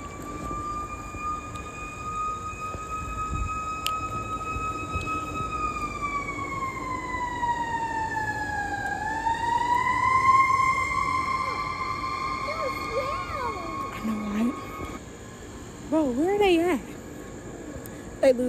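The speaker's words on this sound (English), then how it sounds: "Ambulances are coming." Ambulance sirens wail in a neighbourhood street, a tone holding steady, sweeping down and back up as they pass, moderately distant; voices chatter faintly alongside near the end.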